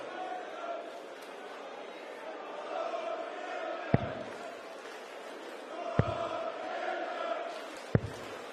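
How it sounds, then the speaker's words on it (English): A darts arena crowd cheers and roars steadily for a German player, with loud sharp thuds landing three times about two seconds apart amid the crowd noise. "Crowd getting behind the German."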